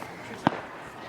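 A single sharp firework bang goes off at a family picnic outdoors, one brief loud crack standing out against steady background noise.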